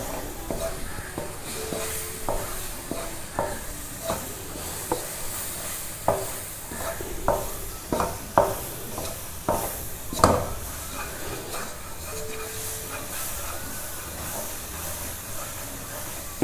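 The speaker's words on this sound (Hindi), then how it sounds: "ये बिल्कुल थोड़ा थोड़ा डालते जाएं इसको और साथ साथ ही इसको मिक्स करते जाएं।" Besan and coconut halwa is stirred in a pan, with a soft continuous sizzle broken by repeated scraping strokes of the spoon at an irregular rhythm.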